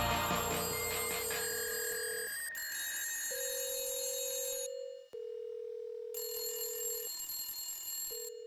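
Electronic telephone ringing in sustained, bright tones that shift pitch in steps, with a brief cutoff before the ringing resumes.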